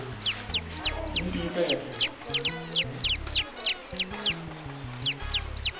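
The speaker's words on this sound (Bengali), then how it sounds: "মুরগির বাচ্চা সাউন্ড" Cartoon sound effect of baby chicks chirping, rapid repeated high peeps in bursts over a bouncy low musical accompaniment, loud and close.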